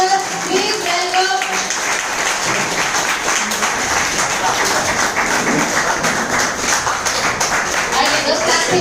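Steady applause from an audience at a hotel gathering as leaders are welcomed onto the stage, dense clapping sustained throughout with some voices mixed in.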